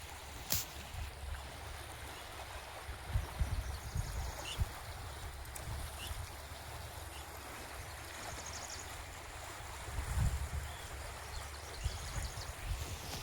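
A river flows with a steady, quiet broadband rush, a continuous soft wash with a few faint splashes and knocks scattered through it. No voices are heard.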